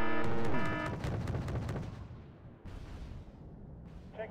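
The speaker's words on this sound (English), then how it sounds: "Oh, that was a nice bombing run." Heavy explosions from a bombing run in the video game Wargame: Red Dragon, one big booming blast at the start fading into a long rumble, then further muffled detonations rolling in after it.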